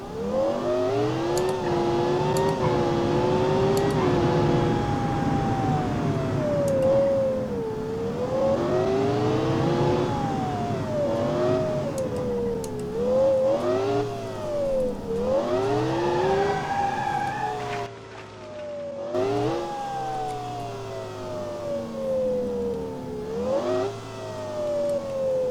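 A high-revving supercar engine in the video game BeamNG.Drive climbs and falls repeatedly, each rev slowly winding back down, loud and continuous with no talking.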